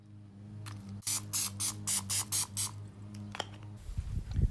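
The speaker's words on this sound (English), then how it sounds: "You will also want to spray the tuna with oil." An oil spray can is pumped over tuna on wooden skewers in a series of about seven short, close hissing bursts, followed by light handling noises.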